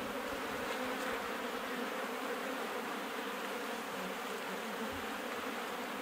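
Honey bees swarm around an open hive, their dense, steady buzzing close and continuous without a break.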